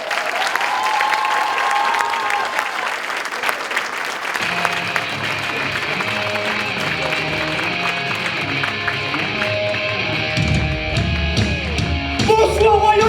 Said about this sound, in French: Applaudissez bien fort, Monsieur Paul Minoreau.